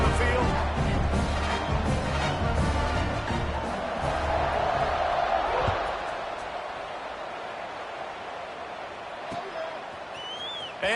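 Stadium crowd in an NCAA football video game, heard as a broad roaring murmur that swells and then eases, with a commentator talking over it throughout.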